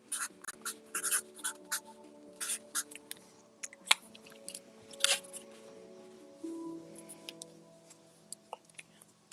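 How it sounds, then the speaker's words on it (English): A pen writing on a card, soft scratchy strokes and taps in irregular bursts, quiet and close, with a faint tonal hum beneath. "I'll just write test 2 on that."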